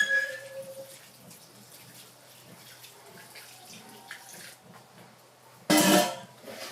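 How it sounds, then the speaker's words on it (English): Warm water is poured over banga palm fruit being washed for atama soup, with quiet sloshing and handling noises, then a sudden loud splash near the end. "Now we use warm water to wash the banga"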